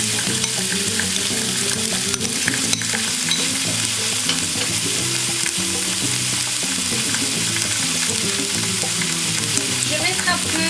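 Onion and garlic fry in a tablespoon of butter, a steady, dense sizzle running the whole time with a low rumble underneath and occasional clinks of stirring, loud and close.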